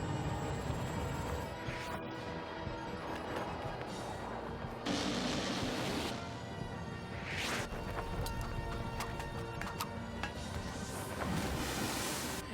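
Booming gunshots from the video game Parasite Eve, several heavy blasts spaced a few seconds apart over a dense rumbling game soundtrack, with no speech.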